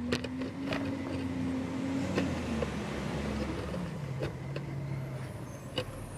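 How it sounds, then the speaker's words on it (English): A garbage truck rumbles in the distance, its engine droning and shifting pitch, with occasional faint clanks and hisses over steady low noise. "That's the rubbish truck you can hear in the background."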